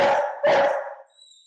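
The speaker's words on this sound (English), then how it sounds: "That was my dog." A dog gives two loud, close barks in quick succession that fade out, with a brief spoken word nearby.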